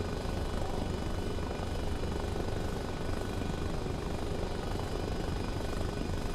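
Steady, loud rotor thrum of a helicopter in flight in the military game Arma Reforger, a constant dense whirring drone held close for the whole stretch with no voices.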